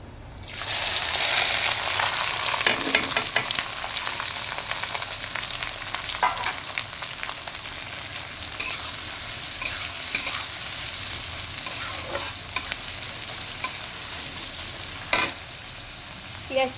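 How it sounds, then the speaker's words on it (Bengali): Chopped onion fries and sizzles in hot oil with dried red chilli, whole garam masala, cumin and bay leaf, a steady close crackle broken by stirring scrapes and a few sharper clinks, with no talking. "পেঁয়াজটা আমার খুব সুন্দর করে ব্রাউন করে আমি ভেজে নিব।"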